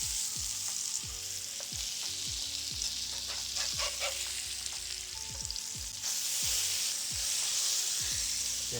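Salmon fillets sizzle steadily in a hot pan just after being flipped, a continuous dense frying hiss broken by repeated scraping knocks of the spatula, with the sizzle surging louder toward the end.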